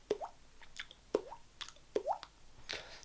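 A human voice mimics a water droplet, three quick mouth plops with rising pitch, evenly spaced and close, each followed by a soft click, with no other sound around them.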